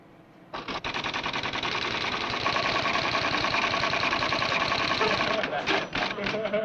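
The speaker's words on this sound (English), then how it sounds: "The typewriter is simply a device by which we communicate with computers." An early computer-linked typewriter in a 1960s sitcom clatters steadily and loudly for several seconds, a dense mechanical rattle with a few sharper strikes near the end.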